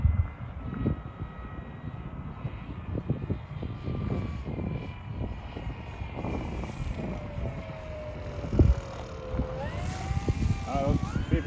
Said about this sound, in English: Let's see if we can bring her in for a landing.